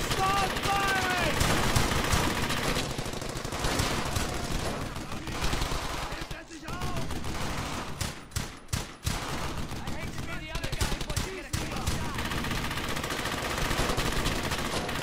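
Rifle and machine gun fire from a World War II squad shooter lays down suppressing fire in sustained, loud bursts and rapid volleys, with short pauses and shouted voices mixed in.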